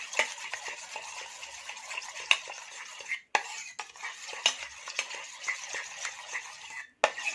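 Homemade aloe vera gel thickened with carbomer is stirred in a bowl, giving a steady close scraping and swishing with light clinks of a utensil against the container and two brief pauses.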